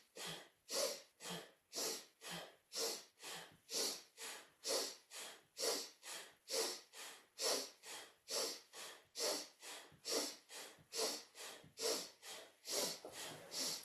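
Deep, rhythmic breathing during a Kundalini exercise, quick forceful inhales and exhales through the nose repeating steadily about twice per second, close and clear, with no speech.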